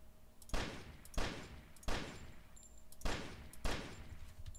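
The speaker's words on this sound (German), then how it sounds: "Ich probiere mal die Deagle aus. Mal gucken, ob die präzise schießt." Five loud, close Desert Eagle pistol shots in The Fifth Day, fired one at a time at an even, deliberate pace, each a sharp crack with a short fading tail.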